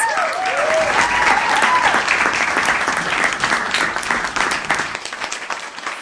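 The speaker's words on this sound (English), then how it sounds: "Please join me in congratulating our award recipients and all of the nominees for a final round of applause." Closing applause at an awards ceremony fills the room, a steady crowd ovation that stays loud and then slowly thins out near the end.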